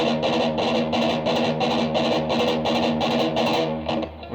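A distorted electric guitar plays a heavy metal gallop on the top string, fast repeated chugging bursts in a steady driving rhythm, loud and close, fading briefly at the end.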